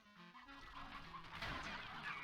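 Chickens clucking in the Slime Rancher video game, several game-bird calls overlapping at close range with constant sound and no talk.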